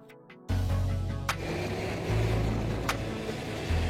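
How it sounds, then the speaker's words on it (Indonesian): A heavy dump truck engine rumbles low and steady up close on a high-rise building construction site, with a couple of sharp clicks or knocks over the droning motor. "Dump truck."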